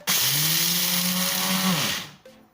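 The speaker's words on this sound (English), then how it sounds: "I'm blending the egusi seed" A blender grinding egusi seeds: a loud, close motor whine with a strained pitch that sags, runs for about two seconds, then cuts off abruptly.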